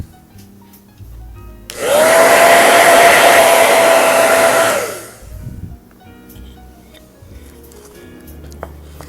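A hair dryer blows loudly and close for about three seconds, starting abruptly and tapering off as it is switched off, drying a nautical-themed wooden mosaic craft; quiet handling noises follow.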